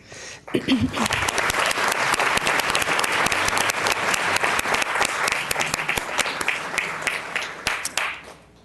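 Audience at a school board meeting applauds with steady, sustained clapping for about eight seconds, fading out at the end.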